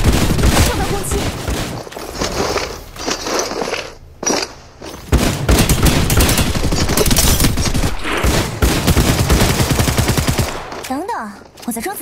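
Heavy bursts of automatic weapon fire in Apex Legends, loud and near, running almost continuously with short gaps and impact effects, then tapering off at the end.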